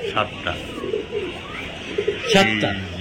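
Pigeons coo at a pigeon farm selling Giribaz colouring pigeons, with several soft throaty coos and wing flutters close by, mixed with people talking nearby.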